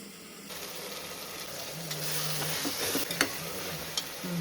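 Ground masala paste hits hot oil in a pan for avarekai khichdi, giving a sudden close sizzle that continues steadily with a few clinks and stirring scrapes.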